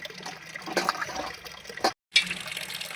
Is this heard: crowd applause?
no